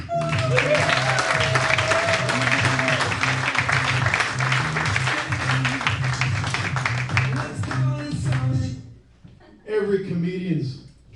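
A stand-up comedy audience claps for a comedian in a dense, continuous patter lasting about nine seconds while a voice speaks over it. The clapping then dies away and talk resumes briefly.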